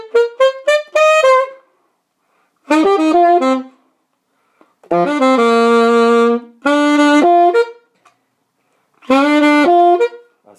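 A solo alto saxophone plays a short melody in separate phrases: quick repeated notes, then longer held tones, with silent gaps between phrases, close and clear.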